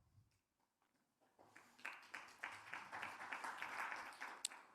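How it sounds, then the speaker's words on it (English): A small scattering of applause from a sparse audience at a speech event, a few hands clapping in a thin, uneven patter that swells after a quiet start and stays moderate. "How's that for a spattering of applause?"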